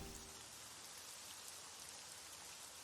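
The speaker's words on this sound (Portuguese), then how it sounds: "A chuva e os ocasionais trovões tomaram conta de todo o espaço sonoro." Rain falling on a roof, a dense, even hiss of drops holding steady throughout at low volume, with no thunder evident.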